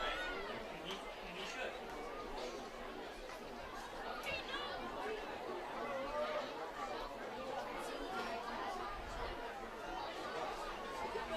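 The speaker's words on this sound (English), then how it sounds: "You can hear through our mics how quiet this crowd has gotten." A subdued football crowd at a high school varsity game murmurs steadily, a soft, distant babble of many voices with scattered louder calls, never rising into cheering.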